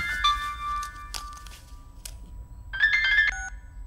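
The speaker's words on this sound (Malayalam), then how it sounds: "ഫോണ് നിന്റെ ഫോൺ അടിക്കുന്നു" A phone rings with a bright electronic melody, in short bursts separated by brief pauses, fairly close.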